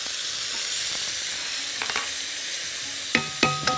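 Rice and quail fry in ghee with a steady hissing sizzle close by, broken near the end by a few sharp clinks of a utensil stirring against the pot.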